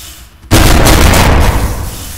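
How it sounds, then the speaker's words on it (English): A head exploding in People Playground, heard as a sudden loud burst after near silence, followed by a roaring, crackling tail that slowly fades. "Did his head just explode?!"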